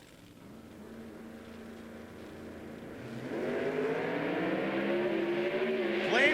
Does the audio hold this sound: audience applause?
no